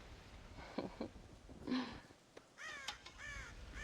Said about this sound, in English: God damn crows!